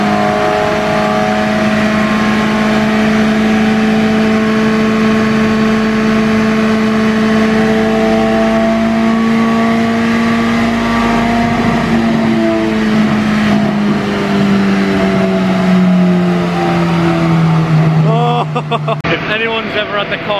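A 2000s-era EP3 Honda Civic Type R engine revs long and steady on a dyno, its note sweeping slowly upward and then easing down, loud and close with a few crackles at the end.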